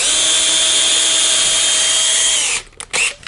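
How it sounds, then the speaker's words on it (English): Power drill boring back out through a wall at a marked spot, running steadily and loud for about two and a half seconds, then stopping abruptly, followed by a few short rubbing, scraping bursts. "then drill back out the new mark"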